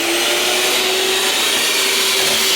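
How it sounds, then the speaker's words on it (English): An electric mixer whisks heavy whipping cream in a kitchen, giving a steady, loud motor whine with a constant pitch throughout, alone without talk. "So, let's whisk."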